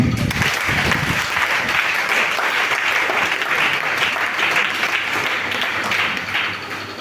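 Church congregation clapping during a Sunday worship celebration service, loud, dense applause that holds steady throughout, with crowd voices mixed in.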